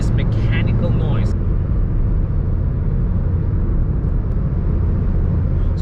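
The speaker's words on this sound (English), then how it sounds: "it's more wind noise and road noise than it is mechanical noise" Wind and road roar fill the cabin of a 2021 Suzuki Swift Sport at speed, a steady, loud broadband rumble that does not let up. Voices briefly break in at the start.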